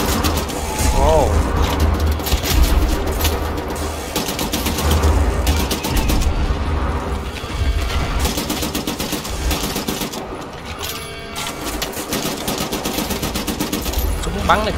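Rapid gunfire from a weapon in the shooter game Wolfenstein The New Order, loud repeated bursts with mechanical clatter, over game sounds and with someone talking at times.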